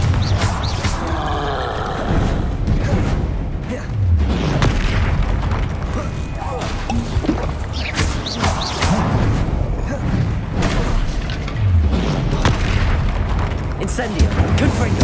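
Repeated fire-blasting Confringo and Incendio spell explosions in the Hogwarts Legacy video game, deep booming blasts recurring every few seconds through continuous combat noise with brief vocal sounds mixed in.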